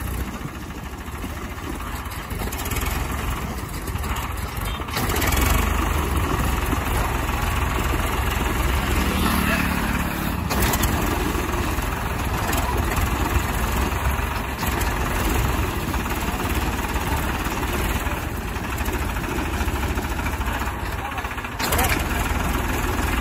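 A Mahindra or Farmtrac tractor engine running outdoors, a loud, steady low diesel chug and idle that continues throughout, with voices talking over it at times.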